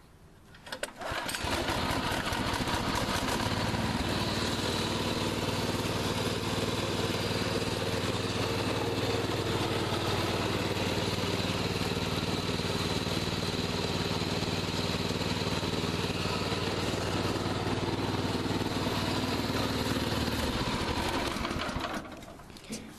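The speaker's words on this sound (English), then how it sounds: "I'll fire this up. It's nothing special, just a Chinese engine." A small Chinese-made tractor engine, choked to start, starts up and runs steadily at a loud, even idle for about twenty seconds before cutting off.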